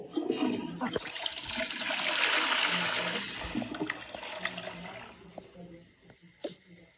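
A household toilet flushes at night, a long rushing surge of water that swells and then drains away over several seconds, with a voice speaking softly in the background.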